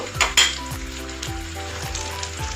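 Onion and tomato sizzling in a hot pan with a few metallic stirring clinks, loud and close, steady frying hiss, no talking.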